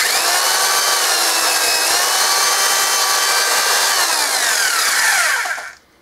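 A loud, continuous whine of a power drill running at high speed, close up and steady for several seconds before cutting off abruptly.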